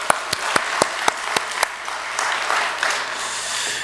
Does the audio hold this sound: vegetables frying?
no